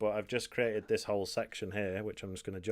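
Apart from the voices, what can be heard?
None of the usual background noises is heard.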